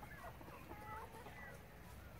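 Turkeys in a farmyard make short burbling gobbles and clucks, several calls overlapping at moderate distance with faint background voices.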